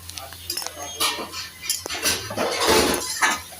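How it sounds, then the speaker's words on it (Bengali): Boiled pumpkin leaf saag stirred and fried in a pan, with irregular clinks and scrapes of a utensil against the metal over a low background hiss, close by. "এইভাবে শাকটাকে ঠিক করে ভেজে নেব"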